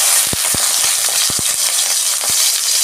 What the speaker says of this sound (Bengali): তেল গরম হয়ে গেছে। আমি এবার মাছটা দিয়ে দিচ্ছি।